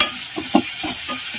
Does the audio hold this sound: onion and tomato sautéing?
yes